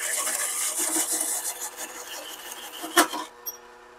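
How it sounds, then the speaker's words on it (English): A steady, harsh grinding rasp of a Blair cutter on a drill press biting through a metal motorcycle gas tank panel, ending with a sharp clack before it goes quiet. "now I'm going to cut these holes on the drill press with my Blair cutters"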